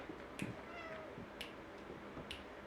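A house cat gives a few soft, faint meows spread over a couple of seconds against a quiet indoor background with light clicks.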